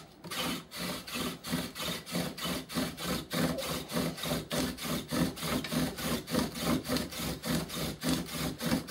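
Bow drill friction fire with an oak dowel on a pine base: a close, steady rasping back-and-forth of wood on wood, about two strokes per second, repeating evenly and alone.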